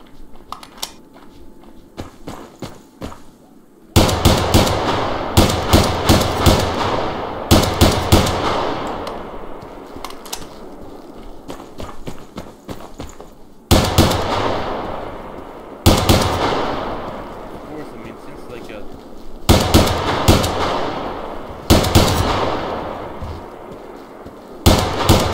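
Repeated bursts of gunfire from a World War II-style rifle in the video game Survarium, loud close single shots fired in clusters of rapid cracks with short echoing tails and brief pauses between volleys.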